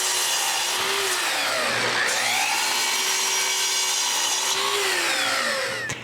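A power saw cuts through two pieces of wood for a stair gate, a loud steady whine that dips in pitch as the blade bites into each piece, with no talking.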